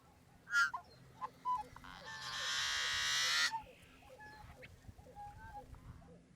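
A male yellow-headed blackbird gives a few short clicks, then a harsh, buzzy rasping song for about a second and a half, with outdoor background chatter around it.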